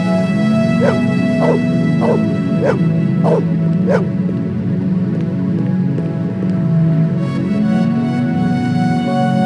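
A dog in the video game Blade Runner barks in a quick series of about six sharp yips, fairly close, over a constant low droning ambience with light rain-like hiss.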